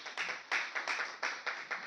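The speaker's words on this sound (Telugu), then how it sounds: "ఒకసారి గట్టిగా బ్రదర్ చప్పట్లు కొట్టండి" Audience clapping at a Telugu church fellowship gathering, a short burst of rhythmic hand claps close by, several claps in a row with brief gaps.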